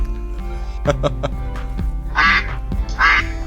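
Cartoonish duck quacking sound effect: after a few short thumps, two loud, close, nasal quacks ring out about a second apart.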